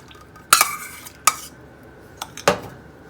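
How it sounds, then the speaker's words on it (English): A spoon stirs a pecan crust mixture with melted butter in a bowl, making four sharp clinks and scrapes against the bowl at irregular intervals. The clicks are close and fairly quiet. "we're just going to incorporate that until it gets kind of crumbly and pulls away from the bowl"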